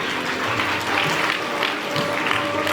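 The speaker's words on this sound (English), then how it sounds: "So let's a big round of applause for them." Audience applause fills a school house closing ceremony, a dense steady wash of clapping that holds at an even level throughout, with a faint tonal hum appearing near the end.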